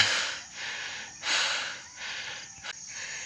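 Heavy, rhythmic panting breaths while hiking up Mount Arayat, about five or six quick inhale-exhale cycles, close and breathy with no talking.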